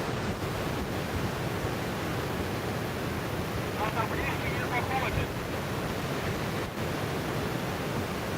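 Stormy sea surf breaking on Sofia beach in Anapa, a steady loud wash of waves mixed with wind buffeting the microphone, with faint voices briefly audible in the background.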